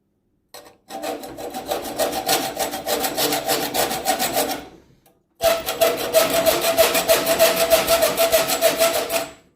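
Hand file or small saw rasping a screwdriver slot into a broken screw, two bursts of fast back-and-forth scraping strokes separated by a short pause, close and fairly loud with no talking.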